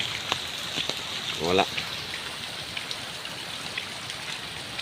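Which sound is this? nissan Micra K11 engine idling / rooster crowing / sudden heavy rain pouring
sudden heavy rain pouring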